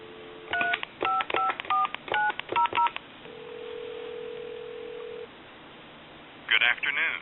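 A rapid series of short two-tone dialing beeps from an Astral Telecom Galway Crystal telephone plays in quick bursts, followed by a steady tone, then another burst of beeps.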